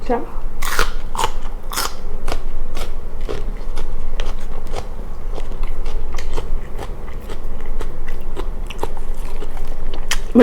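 Someone eats a Thai sour beef salad, making repeated crisp biting and crunchy chewing sounds close to the mic, steady throughout, with a voice now and then alongside.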